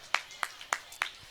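Crisp hand claps at a church kids' programme land five times in an even, quick rhythm, close and distinct against a quiet background.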